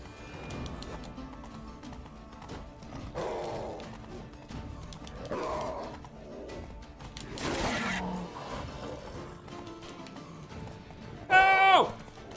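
Roach the horse gallops in The Witcher 3 with a steady run of hoofbeats, moderately loud against game music and ambience, ending in a short whinny.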